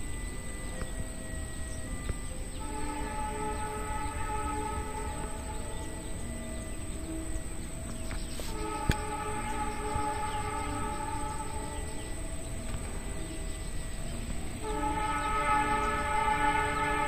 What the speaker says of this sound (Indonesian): yuk kita tunggu KLB-nya melintas di stasiun Randu Agung